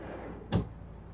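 A single soft thud of a pull-out storage drawer sliding shut in the living quarters of a 2023 Cimarron Norstar three-horse trailer, quick and muffled against a low background hum.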